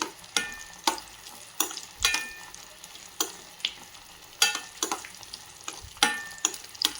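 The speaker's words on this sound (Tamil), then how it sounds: "பொன்னிறமாக ஆகிற வரைக்கும் வறுத்து எடுத்துக்கலாம்." Raisins frying in ghee in a pan for a Tamil pongal, a soft steady sizzle broken by repeated sharp scraping strokes of a spoon stirring, close and moderately quiet.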